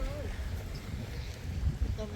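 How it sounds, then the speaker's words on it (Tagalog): Strong wind buffets the microphone at a lakeside campsite beside a pitched tent, a steady low rumble running under a voice throughout. "Medyo malakas ang hangin dito guys."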